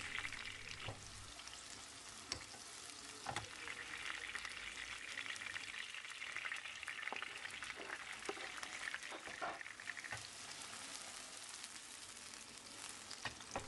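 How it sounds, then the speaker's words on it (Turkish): Quiet, steady sizzling of green peppers frying in olive oil over high heat, with occasional clicks and stirring scrapes, no voices. "Şu anda yüksek ateşte her ikisini de yaklaşık olarak 3-4 dakika boyunca güzelce kızartacağım."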